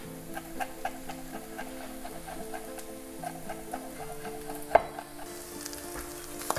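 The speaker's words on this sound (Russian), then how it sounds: "И еще пару минуток с чесночком прижариваем." Onion and garlic fry in a pan with a steady sizzle, broken by light stirring taps and a sharp clink partway through, with no talking.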